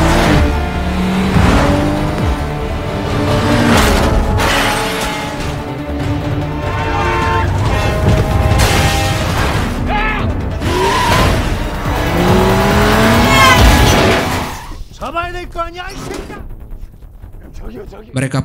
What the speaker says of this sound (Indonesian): mereka berhasil menghentikan laju mobil yang dikendarai oleh Kang Kyung Ho.